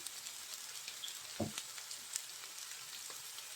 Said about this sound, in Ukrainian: Так. Отак посмажиться.